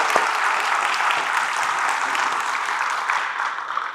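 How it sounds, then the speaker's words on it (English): Steady audience applause at a community awards evening honoring hometown heroes at the Pigeon Forge Library, a dense wash of clapping hands sustained evenly throughout with no voices over it. "Let's give her a round of applause."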